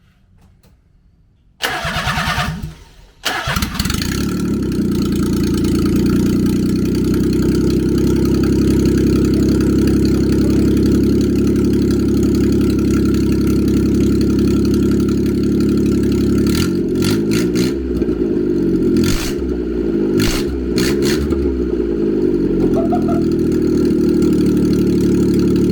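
A kei truck fitted with a motorcycle muffler as its exhaust cranks briefly, fires up, and settles into a loud, steady, raspy idle, with a few blips of revving late on.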